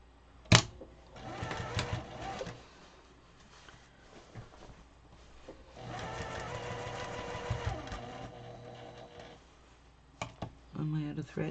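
A sewing machine stitches an 18-inch fabric pillow in two short runs of steady mechanical whirring, separated by a pause with a sharp click, and ending with a few brief bursts near the end.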